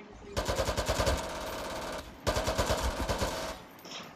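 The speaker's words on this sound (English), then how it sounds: "Me and him are having a firefight." Rapid automatic gunfire in a Garry's Mod firefight, two loud sustained bursts of fast repeating shots separated by a short pause, close and punchy, ending with a faint tail.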